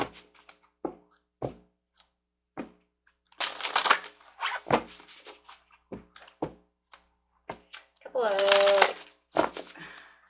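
Animal spirit cards being shuffled and handled, with a quick riffling burst around the middle and another near the end, between sparse soft taps and card flicks; no speech.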